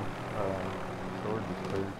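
Helicopter in a multiplayer shooter video game, a steady rotor and engine drone running through the whole stretch, mixed with game sounds while players talk over it.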